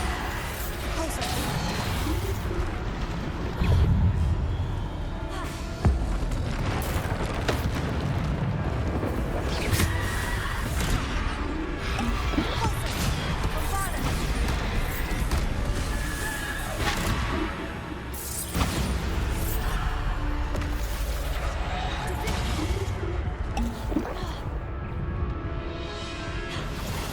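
Bombarda spell explosions in a Hogwarts Legacy combat trial, a continuous barrage of crashes, booms, whooshes and thwacks over dense game sound, with spell names shouted throughout.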